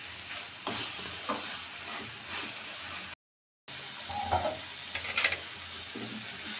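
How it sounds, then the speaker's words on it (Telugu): Tomato and brinjal curry fries in oil in a pan, giving a steady sizzle with intermittent stirring scrapes and clinks, interrupted by a short silent gap midway. "అలా ఆయిల్లో వేయించుకుంటే బాగుంటుంది."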